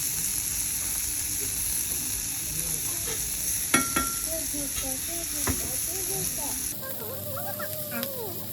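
Okonomiyaki sizzles on a hot griddle at an 86-year-old okonomiyaki shop in Tokyo's Yanesen area, a steady close frying hiss with occasional scraping clicks while people talk quietly over it.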